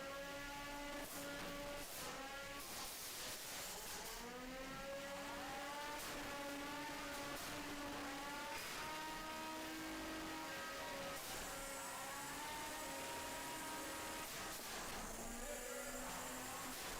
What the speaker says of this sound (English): Looks like he got his weapon spinning up,